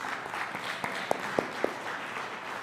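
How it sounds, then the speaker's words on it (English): A church congregation at a traditional Sunday service claps in praise, a steady wash of many hands that holds throughout, with a few sharper tones standing out briefly. "Let's give the Lord a hand clap of praise"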